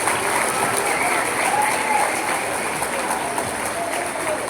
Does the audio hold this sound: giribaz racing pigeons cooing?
no